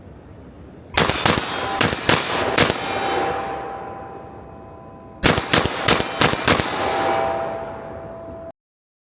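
A Steyr AUG bullpup rifle fires two quick strings of sharp, loud shots, roughly five each, separated by a pause, with a ringing, decaying tail after each burst and no talking.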